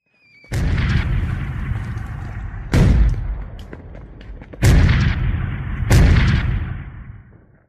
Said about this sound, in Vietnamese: Những tiếng nổ đầu nòng vang lên, đất trời như vỡ òa bởi các tiếng nổ pháo